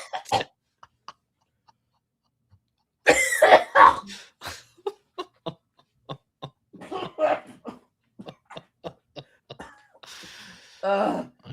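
A person coughs heavily in repeated hacking bursts, close and loud, with short pauses between fits and some throat sounds mixed in.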